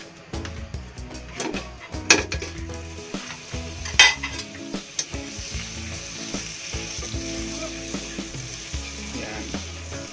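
Butter melts and sizzles steadily in a wok used for roast beef sauce, with occasional clinks and scrapes of a utensil against the pan.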